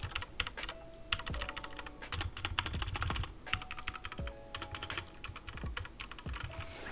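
Rapid typing on a Redragon K630 mechanical keyboard with brown switches, a dense stream of close, crisp key clicks and thocks with occasional heavier strikes, no voices.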